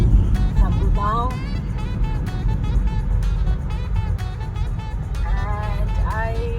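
A car cruises along the highway from Gurgaon to Agra, a steady low road and engine rumble inside the cabin while a voice talks over it throughout.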